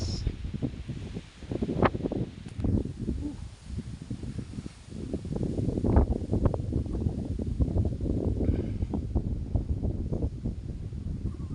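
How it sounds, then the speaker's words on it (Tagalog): Strong wind gusts roar steadily outdoors along a subdivision street at Washington Place, buffeting the microphone with a continuous low rush that swells and eases throughout. "Lakas ng hangin guys."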